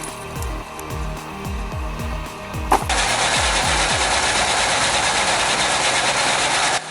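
A big chainsaw driven by a 4.1L V8 engine chugs in steady low rhythmic pulses, then roars loudly and continuously as it bites into a log, a dense sustained tearing noise close by.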